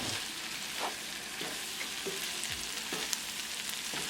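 Cooked carrot, pea and potato sabzi gets stirred in a pan, a low, steady sizzle with a few scraping strokes of a spoon, close but fairly quiet, no speech.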